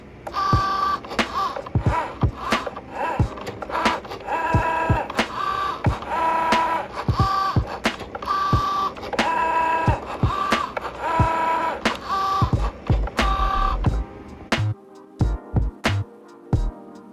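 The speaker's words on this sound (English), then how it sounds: "let me cut to the footage of me making these and how they kind of work with my Cricut machine" A Cricut cutting machine works on scratch-off cards with steady motor whirring and dense rhythmic clicking and ticking for a long stretch, then stops near the end, leaving a few isolated knocks. It is close and fairly loud, with no talking.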